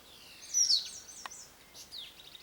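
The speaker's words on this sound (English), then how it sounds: "Listen to the birds singing." Wild birds sing faintly along the Mardi Himal trail in Nepal, with a short high whistle and a brief trill standing out from a quiet outdoor background.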